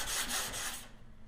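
Sandpaper rubs back and forth over a painted car panel whose fresh coat is still slightly sticky, giving a close, raspy scraping in a few quick strokes that stops short.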